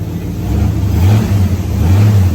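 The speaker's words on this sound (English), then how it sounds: "The exhaust actually sounds pretty good." A Crown Victoria V8 engine swapped into a Ford F100 pickup, heard as a low steady exhaust burble at idle with slight swells in revs, close and loud.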